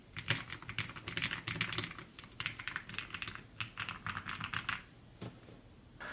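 Steady typing on a low-profile mechanical keyboard, a close, continuous run of soft, damped keystrokes with a brief pause near the end and no talking.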